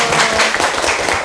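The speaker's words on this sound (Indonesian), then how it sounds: "beri tepuk tangan dulu" An audience in a classroom, right after a poetry reading, claps together in a dense, steady burst of applause that is loud and close throughout.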